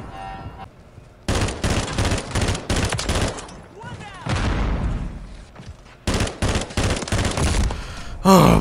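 Rapid bursts of video game gunfire crackle in dense volleys with short pauses between them, loud and close, and a voice can be heard briefly near the end.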